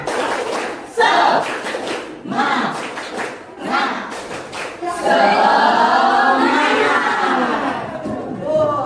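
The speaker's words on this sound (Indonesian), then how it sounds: "Yuk ulang, yang keras suaranya. Tepuk semangat." A class of school students claps a loud rhythmic spirit clap together, with bursts of group chanting and shouting mixed into the steady beat before it swells into sustained voices near the end.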